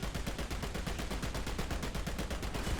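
Rapid, dense bursts of gunfire from War Thunder tank combat with a Leopard A1A1 L/44, a steady loud barrage of repeated shots running throughout with no pauses.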